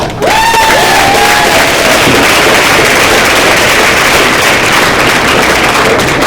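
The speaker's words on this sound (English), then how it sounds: "So if you have a big round of applause for Abigail." Loud student government senate audience bursts into applause and cheering, a dense wall of clapping with whoops and a rising whistle-like cry at the start, sustained throughout.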